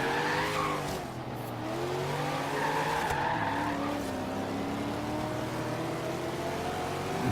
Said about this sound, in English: Now that drift burnout you saw me doing, tires lighting up, that was just pure power of the Corvette.